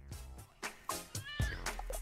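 A cat meows in the Bratz: Flaunt Your Fashion video game, several short rising meows spread over two seconds, close and clear, with no talking.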